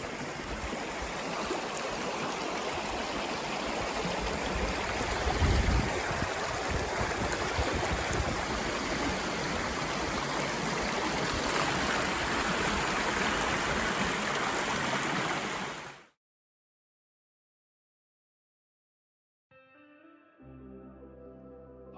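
A gurgling river stream runs loud and steady for about sixteen seconds, its broad rushing wash continuous, then cuts to silence before faint unrelated sound returns at the end.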